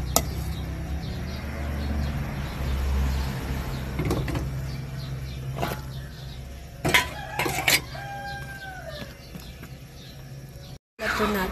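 Shrimp sinigang with okra being stirred in a pot, a spoon clanking against the metal in a few scattered knocks over a low simmering hiss, with a voice heard briefly partway through.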